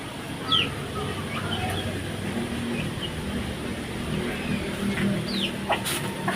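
A broody hen, freshly bathed, gives a few soft, scattered clucks over a steady outdoor background hum, fairly close but not loud.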